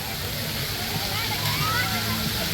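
Water pours steadily from two spouts of a tipping bucket at a water park, a dense continuous splashing rush that stays loud and even throughout.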